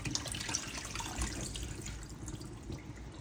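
Chicken gizzard pieces being washed by hand under a running tap in a kitchen sink, a steady close splashing and trickling of water with small drips, no talking.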